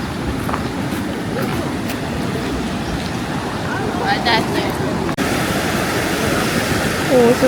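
A stony river runs among many rocks in a sunny mountain valley, a steady broadband rush of flowing water that fills the whole clip, with a voice speaking over it near the end.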